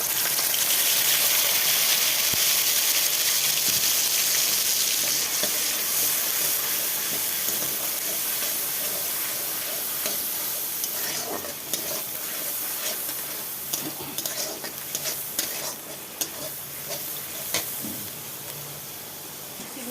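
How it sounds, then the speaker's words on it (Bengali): Ground spice paste hits a pan of hot oil with bay leaves in a Bengali home kitchen, giving a loud hissing sizzle that slowly eases into softer crackling with scattered stirring clicks. "বেটে রাখা মশলাটা দিয়ে দিচ্ছি"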